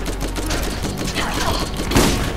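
Shotgun fire in the video game Borderlands, a dense run of loud gunshots and thuds in a chaotic firefight, with one sharper blast standing out near the end.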